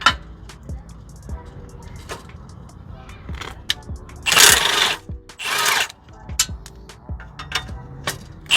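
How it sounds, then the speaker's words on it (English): Bolts come out of the oil pan of a 2015-2019 Honda CR-V, heard as a series of sharp metallic ratchet clicks and clanks with two louder bursts of tool whirring in the middle, close and fairly quiet. "we're gonna take these bolts out right here"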